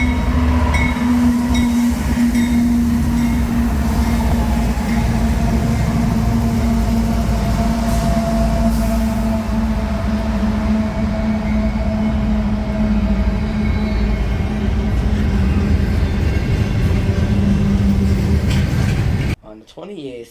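CSX freight train led and trailed by locomotives, including the NC and STL Heritage unit trailing third, rumbling steadily past at close range with a droning engine tone and rolling wheel noise that cuts off abruptly at the end.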